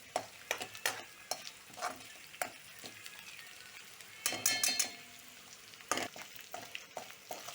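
Chopped garlic frying in a pan and stirred constantly with a spoon, soft sizzling beneath repeated scraping and clinking strokes against the metal, close and fairly quiet.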